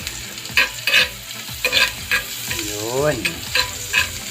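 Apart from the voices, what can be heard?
knife fish sisig sizzling and being stirred in a pan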